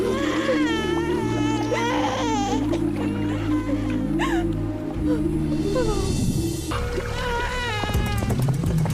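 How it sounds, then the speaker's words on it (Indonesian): A baby cries in long wailing sobs over a dense musical score, the crying loud and continuous for most of the stretch with brief pauses before it resumes. "Dengar suara tangisan bayi"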